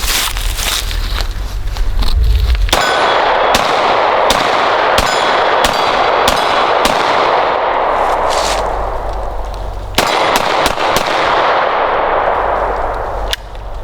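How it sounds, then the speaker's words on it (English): Glock 17 pistol shots ring out in a rapid string at a shooting range, each sharp crack followed by echo, with metallic pings from steel targets; loud and close, with a pause before more shots. "Send some rounds down range, see how you feel."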